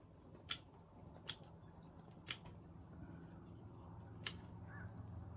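Sharp metallic snips of pruning shears cutting dead branches from a spruce yamadori bonsai, four crisp isolated clicks spaced irregularly over a low, steady room hum, close and fairly quiet.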